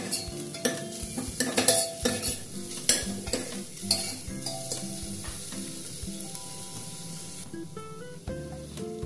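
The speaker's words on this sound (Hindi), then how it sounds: "अब मैंने यहाँ गार्लिक और जिंजर का पेस्ट बना लिया है कूट कर" Garlic and ginger paste frying in a pan, with a continuous soft sizzle broken by sharp utensil clinks and stirring scrapes near the start, close but moderate in level.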